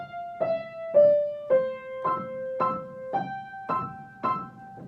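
Piano plays the first line of Cinderella's waltz, eight single notes struck one at a time in an even, moderate rhythm, each ringing briefly before the next, clear and close with no talking.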